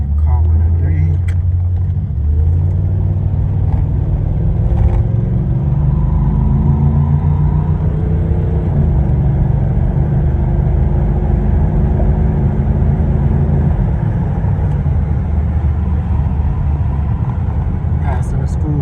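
A 1987 Chevy Monte Carlo SS heard from inside as it drives through the gears, a steady loud engine drone that climbs in pitch, drops at each shift, and rises again throughout.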